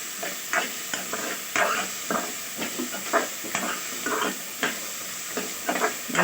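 Coriander leaves fry in a pan with a steady sizzle, broken by rhythmic scraping stirs every half second or so, close and fairly loud with no talk.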